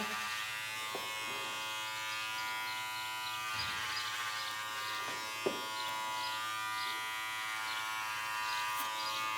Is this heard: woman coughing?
no